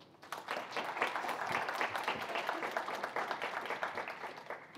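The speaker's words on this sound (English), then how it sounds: "round of applause for Emma Walker" A conference audience at a data science festival claps to welcome a speaker, applause rising quickly and holding as a moderate, sustained patter from a roomful of people.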